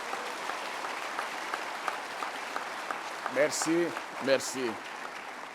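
Applause for bank staff and the bank president at an official investiture ceremony, a steady mid-distance clatter of many hands, with a voice speaking briefly over it toward the end.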